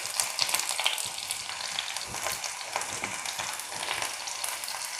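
Fenugreek seeds and five-spice seeds fry in hot oil with a dense, continuous crackling sizzle, loud and close, without pauses.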